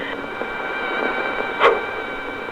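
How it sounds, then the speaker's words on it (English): A single rocket fires from a UH-1 Huey helicopter's launch tube, a brief loud whoosh that rises over steady rotor and engine noise. "That sound you just heard was the one and only rocket that came out of my tubes then."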